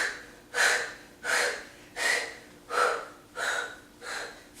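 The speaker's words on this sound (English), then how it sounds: "use that exhale through the mouth to make it ferocious" Six forceful, rhythmic exhales pushed out through the mouth during a core workout, each a breathy whoosh at a steady pace, close and fairly quiet with no talking.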